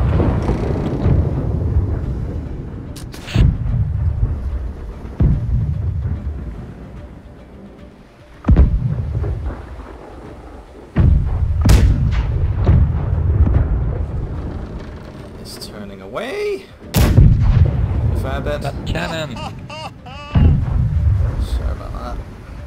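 Cannons fire from a sailing ship's side in the naval battle game Blackwake: a series of heavy, deep booms about every few seconds, each decaying into rumbling noise, with some voices in between.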